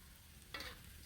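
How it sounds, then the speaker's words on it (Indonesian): Tempeh frying in hot oil in a wok, with a steady low sizzle throughout and a brief brighter burst of crackling spatter about halfway through, close and moderately quiet. "Minyak udah panas, kita goreng dulu ya untuk tempenya itu."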